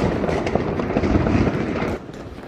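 New Year's Eve fireworks in the Netherlands crackle and pop in a dense, loud barrage of overlapping bursts that thins out near the end.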